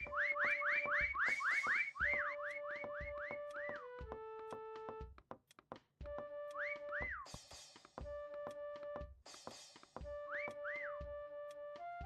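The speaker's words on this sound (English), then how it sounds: "I'm also whistling because it's fun." A player's whistling taunt in a hide-and-seek video game plays as bright, repeated upward-swooping whistle phrases in quick bursts, separated by short pauses and game beeps and thunks, with no talking.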